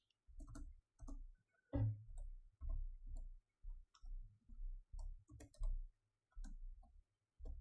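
Typing on a computer keyboard, close and fairly loud, with irregular bursts of clicky keystrokes separated by short pauses.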